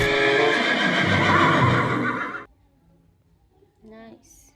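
Toy horse giving a loud electronic neigh and whinny for about two and a half seconds, then near silence, followed by a short high toy chirp near the end.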